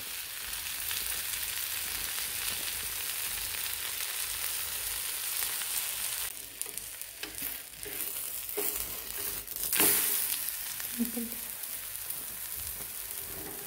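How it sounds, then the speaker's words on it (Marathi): Cucumber thalipeeth fries in oil in a pan with a steady, close sizzle, broken midway by a few scraping and crinkling bursts as the flatbread is loosened. "आता आपण हे थालीपीठ भाजून घेऊया. म्हणजे थालीपीठ घेतलेलं आहे ते छान सोडून घेणार आहोत. तेल साईडनं सोडून घेणार आहोत."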